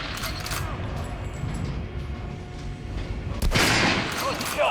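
Weapons are test-fired in the video game Metro Last Light, with a burst of sharp gunshots at the start, a quieter stretch of ambient rumble, then a loud heavy shot near the end.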